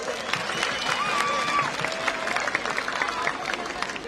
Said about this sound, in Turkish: Milas bir alkış.